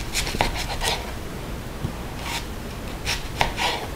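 A knife cuts yellow onions into quarters on a board, heard as a few soft, close chops and scraping strokes over a quiet background.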